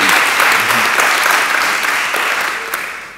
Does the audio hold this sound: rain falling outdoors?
no